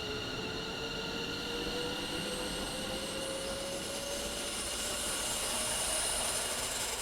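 Steady rumble of a train in Train Sim World 6 on the West Coast Main Line, with a rising engine tone, faint whining and rail noise continuing evenly throughout.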